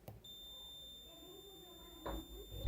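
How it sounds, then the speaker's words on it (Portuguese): A multimeter gives a steady continuity beep while its probes test a capacitor on an Electrolux appliance control board, the tone running close and unbroken for most of the moment, with a brief knock of handling near the end. "o capacitor faz isso aqui, ó."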